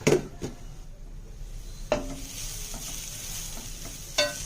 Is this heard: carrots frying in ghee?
yes